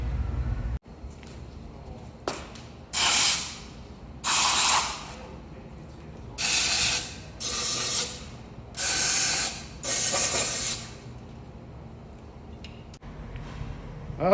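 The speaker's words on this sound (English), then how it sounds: "put cavity protection spray inside the chassis" Aerosol cavity protection spray applied inside the chassis of a Jaguar XK150 under restoration, six loud hissing bursts of about a second each with short pauses and faint clicks between.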